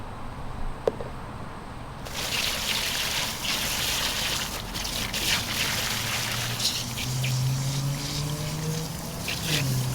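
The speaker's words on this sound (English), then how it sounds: "Here to rinse out another t-shirt for you" Water running over a tie-dye t-shirt as it is rinsed, a steady close hiss and splash of flowing water with a low tonal hum near the end.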